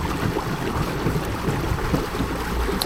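2025 Skeeter ZX200 bass boat with Yamaha outboard running at high speed toward a waypoint, a continuous loud rush of engine, hull and wind noise with no talking.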